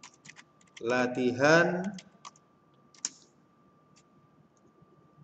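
A computer keyboard clicks in quick scattered keystrokes, close and crisp, while a person speaks briefly over the first part of the typing.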